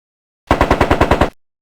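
Rapid burst of about eight gunshots from the Sam & Max Hit the Road video game, a loud evenly spaced rattle lasting under a second, heard alone.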